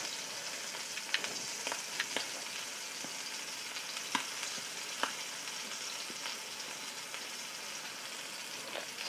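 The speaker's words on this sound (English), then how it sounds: "Seared about now. Perfectly seared, right where I want it to be." Scallops searing in a hot pan, a quiet even crackling sizzle with small sharp pops scattered throughout, no voices.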